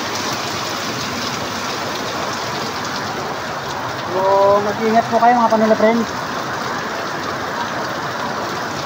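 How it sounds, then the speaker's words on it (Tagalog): Heavy afternoon rain in Tagkawayan, Quezon Province, hisses steadily throughout, with someone talking briefly and a short burst of passing traffic noise in the middle. "Lakas ng ulan, oh."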